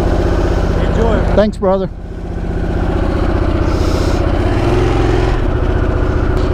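A 2021 Harley-Davidson Sportster S motorcycle starts and settles into a steady, deep rumbling idle close by, with brief talk over the start.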